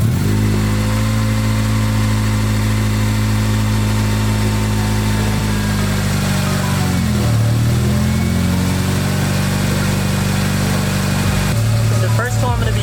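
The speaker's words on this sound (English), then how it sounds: "I'm gonna start the car and I'm gonna put it in 6th gear" A car engine idling in 6th gear with the wheel spinning, a loud steady hum with sustained low harmonic tones that shift briefly midway, running continuously close by.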